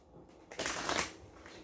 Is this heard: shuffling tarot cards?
yes